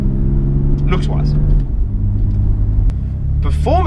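A BMW M4 Competition pulls away with a deep engine rumble, its note rising in pitch near the end, while someone talks loudly over it.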